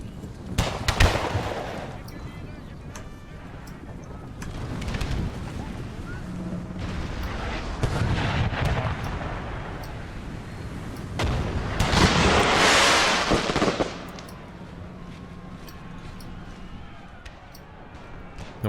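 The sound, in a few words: musket fire in Napoleon Total War video game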